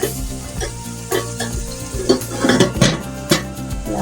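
Masala for beef yakhni pulao fries on a low flame, a soft sizzle running underneath as a spoon knocks and scrapes against the metal pot in irregular clattering bursts.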